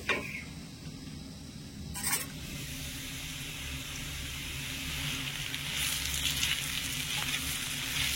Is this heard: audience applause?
no